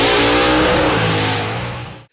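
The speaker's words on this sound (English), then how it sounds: "If you've ever heard a wide-open Hemi at full throttle" A loud Hemi V8 engine roars at full throttle, a deep revving growl that holds steady and then cuts off abruptly after about two seconds.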